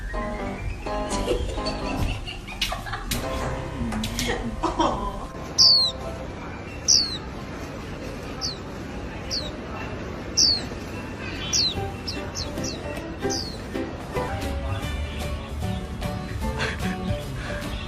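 Small birds chirping in repeated short, sharp tweets, several calls a few seconds apart, close by over a steady low background hum.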